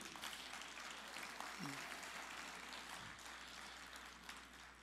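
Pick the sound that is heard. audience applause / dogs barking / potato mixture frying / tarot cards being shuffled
audience applause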